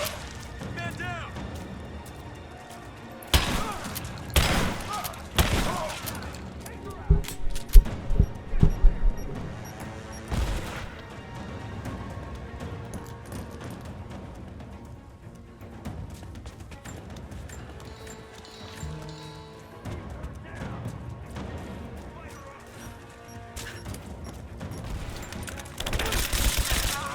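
Enemy suppressing gunfire in Rise of the Tomb Raider crackles in rapid bursts and single sharp shots, some loud and close, others distant, under intermittent talk.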